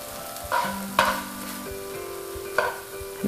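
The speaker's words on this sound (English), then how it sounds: "swirl in 2 tablespoons of cold butter while removing the pan from the heat" Cold butter is swirled into a hot pan sauce, giving a soft continuous sizzle with a few light scrapes and taps of a utensil against the pan, close and moderately quiet.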